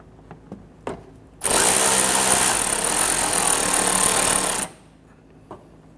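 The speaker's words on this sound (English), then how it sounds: "I'm going to install our screw for the front edge of the bumper." Power driver running a screw into the front edge of a Honda Ridgeline bumper, a single loud whirring burst of about three seconds, close by, framed by faint clicks and handling noises.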